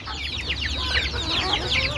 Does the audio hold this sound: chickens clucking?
yes